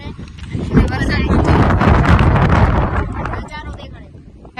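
Wind with rain buffets the microphone near the top of Osam hill, a loud, steady roar that swells and stays strong for several seconds before easing slightly.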